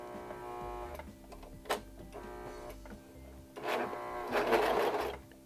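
A serger sewing machine stitches linen for a tea towel, a close mechanical whirring with irregular bursts, growing louder and denser in the last two seconds.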